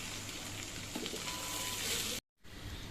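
Rice frying in a pan for beef biryani makes a soft, steady sizzle for about two seconds, then cuts to a moment of silence before the faint sizzle resumes.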